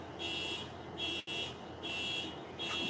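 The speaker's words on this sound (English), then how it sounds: "whose car alarm is going off?" A car alarm sounding nearby, its pulsing electronic buzz repeating in regular bursts roughly every half second, moderately loud with a brief dropout in the middle and no talking.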